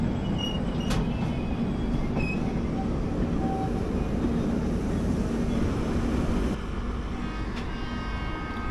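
Another train approaches on the opposite line beside a moving Mysuru–Shirdi express, a steady loud rumble of wheels and rails filling the whole stretch with brief squeals, easing slightly near the end.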